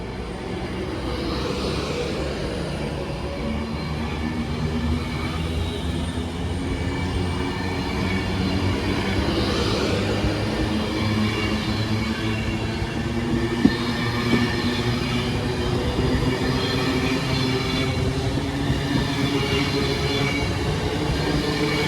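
Avanti West Coast Class 390 Pendolino, unit 390.046, running through Stoke-on-Trent station toward Manchester Piccadilly; a sustained loud rumble of wheels and motors with tonal whine and faint squeal, steady from start to end, no voices.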